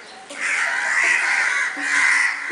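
A crow caws in one drawn-out, harsh, raspy call that swells and dips over a couple of seconds, fairly loud and near, with no talk over it.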